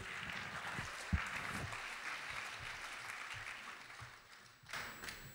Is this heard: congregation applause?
yes